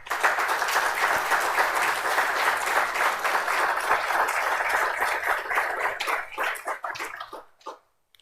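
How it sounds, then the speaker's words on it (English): A conference audience at a central bank digital currency event applauding warmly, a dense, sustained roar of clapping that holds steady for several seconds before thinning into scattered claps and stopping. "Je vous invite à l'applaudir chaleureusement."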